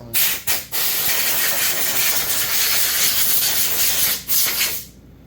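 Close, steady broadband scrubbing and hissing from cleaning a Husqvarna 334 top-handle chainsaw part during a teardown, running continuously with two brief pauses near the start and another before the end.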